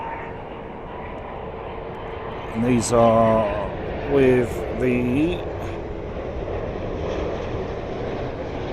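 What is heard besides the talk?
Virgin Airbus A330-300 airliner with GE CF6 engines landing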